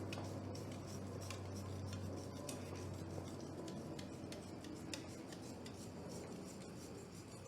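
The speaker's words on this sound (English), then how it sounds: "Let's stir that in." A utensil stirs ground pepper into a thickening moussaka sauce in a pan, a quiet run of soft scraping and clinking strokes in a loose repeating rhythm, close by and without talk.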